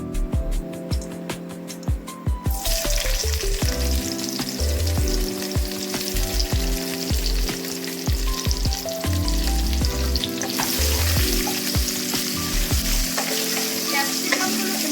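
Chopped capsicum hits hot oil tempered with white cumin and sizzles loudly; the frying surges after a short quieter start and holds steady, with stirring clatter and scrapes throughout.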